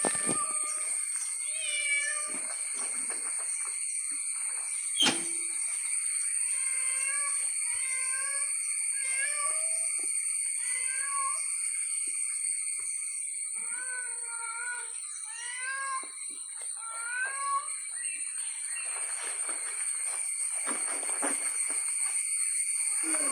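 A cat meows repeatedly in short, rising calls over about twenty seconds, with a constant high electronic whine and faint rustling in the background.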